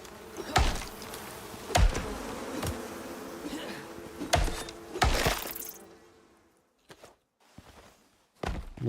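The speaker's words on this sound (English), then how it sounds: "More bees." Buzzing bees in the survival game Icarus, a steady insect drone with several soft thuds through the first six seconds, then fading to near silence with a few brief knocks.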